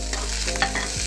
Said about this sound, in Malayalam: വെളിച്ചെണ്ണ ചൂടായി വരുമ്പോൾ നമുക്കതിലേക്ക് കടുക് ചേർത്ത് കൊടുക്കണം.